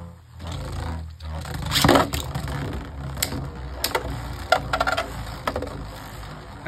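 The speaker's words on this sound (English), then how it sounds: "Hasbro doing its thing, spinning around the stadium." A Hasbro Beyblade Burst top spins around a plastic stadium, a steady whirring grind broken by sharp clacks and scraping hits as it bounces against the walls, close and fairly loud.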